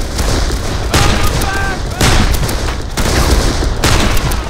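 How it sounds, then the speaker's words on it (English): Dense covering gunfire in Darkest of Days, loud sustained bursts of rifle and machine-gun shots in close, repeated waves, with booms and whizzing rounds overlapping throughout. "Give me some covering fire."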